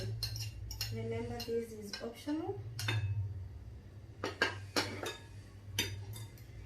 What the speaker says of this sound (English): You also mix well your mixture.